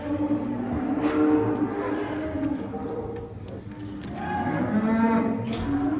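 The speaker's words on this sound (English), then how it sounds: "Cattle are being moved all around where we work today." Cattle being moved around a hoof-trimming site moo loudly and continuously at close range, with overlapping low calls swelling and fading over several seconds.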